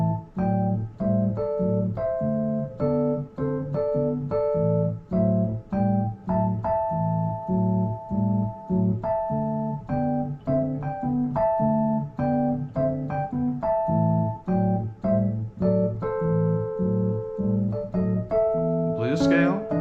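An A blues scale played on piano, notes struck together in a steady rhythmic run with repeated chords and riffs, moving up and down across octaves, loud and close with no talking.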